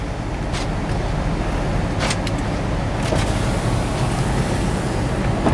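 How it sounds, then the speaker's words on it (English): A small car sits close by outside a house, giving a steady, unbroken low rumble with a faint airy hiss above it that lasts the whole stretch at an even level. "That little car right there, the one closest to us, company. That's what I was hearing."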